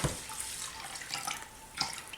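About 4.5 cups of water is poured into rice in a rice cooker pot, a continuous splashing trickle with a couple of louder sloshes near the end, close and unaccompanied by speech.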